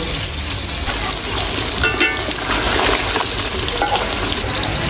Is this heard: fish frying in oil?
yes